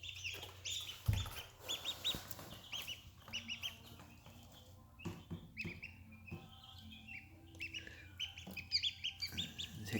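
Young chicks peep and cheep in quick, high bursts beside newly hatched mallard ducklings, the soft calls overlapping close by with a sharp clucking note early on.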